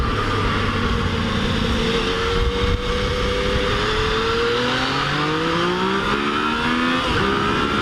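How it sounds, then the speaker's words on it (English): Yamaha FJ-09 motorcycle accelerating hard out of a corner, its engine note climbing through rising gear sweeps, loud and continuous at close range with wind roar and no speech. "I'm gonna do a hard roll on off this corner as is tradition"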